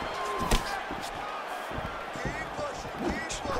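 Punches landing in UFC 4: a few sharp impact thuds, one especially loud near the start, under constant fight commentary and crowd ambience.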